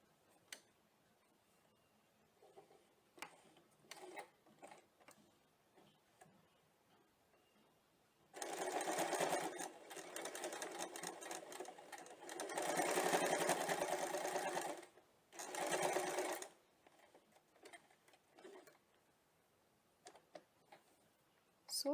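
A sewing machine running a zigzag stitch along a folded loop edge for blouse and dress work, several runs of steady rapid mechanical whirring separated by pauses filled with quiet clicks and handling noises, close by.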